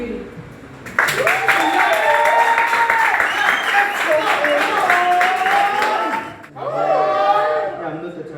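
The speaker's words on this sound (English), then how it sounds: "I'd like you guys to please give them a round of applause." An audience at a poetry performance applauds the poets in a dense wash of clapping that starts suddenly, dips briefly near the end and resumes, while a voice speaks over it.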